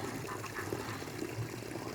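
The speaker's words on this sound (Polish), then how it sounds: "Jak widać tam wpływa woda, wpływa woda z tych wzgórz, z lasu na wzgórzach czyściutka" Clean stream water from forested hills flowing into a small pond for waterfowl, a steady low wash of running water with faint splashing, moderately distant and without voices.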